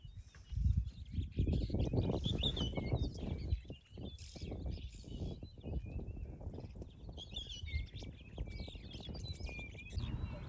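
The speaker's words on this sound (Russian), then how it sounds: "Птички поют." Birds sing and chirp in the wild bush of Tsavo East National Park, Kenya, scattered high calls over a steady low rumble of wind or vehicle noise, with no one talking.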